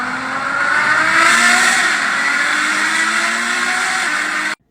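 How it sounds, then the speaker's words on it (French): A Ferrari FF with a V12 engine accelerates hard in Paris near the Champs-Élysées, its loud, rising engine note rolling on for about four seconds before cutting off abruptly, with no talking. "Ça fait plaisir, ça a un V12 et tout, petite accélération."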